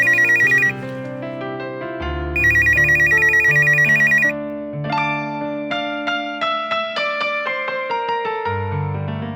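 A telephone rings with an electronic melodic ringtone, loud and close, bursts of tone repeating in a steady pattern with no talking over it.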